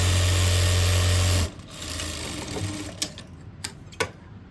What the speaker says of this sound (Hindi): अब इसके ऊपर एक और पक्की सिलाई लगाएंगे 1 पैर की।